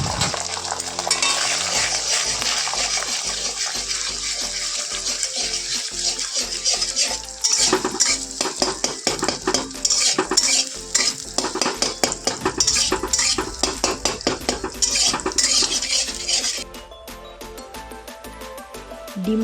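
Three eggs with a little salt scrambled and fried in hot oil in a wok for potato-and-egg chowmein, with close metallic spatula scraping and stirring clatter over a steady sizzle throughout, easing near the end.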